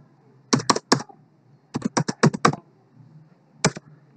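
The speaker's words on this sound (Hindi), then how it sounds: "फिर से वही आईएफएससी कोड टाइप करेंगे।" Fingers typing an IFSC bank code on a computer keyboard, crisp close keystrokes in three quick clusters separated by short pauses, ending with a single lone tap.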